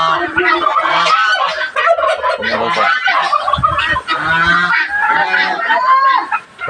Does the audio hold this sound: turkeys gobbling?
yes